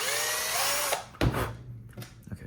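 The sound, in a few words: drilling screw holes with a power drill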